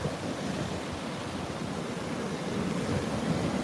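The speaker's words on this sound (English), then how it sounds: "Do you even recognize these waves though?" Ocean waves at sunset make a continuous broadband wash of surf that is fairly loud and steady throughout, with some wind noise on the microphone and no talk.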